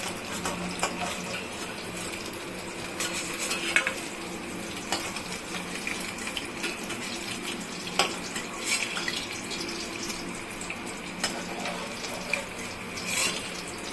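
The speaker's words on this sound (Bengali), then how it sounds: "মাছগুলো আমার ভাজা হয়ে গেছে এখন আমি উঠিয়ে নিচ্ছি" Small puti fish frying in hot oil, a steady sizzling hiss with scattered crackles and a few sharper pops as pieces are lifted out, close and continuous without speech.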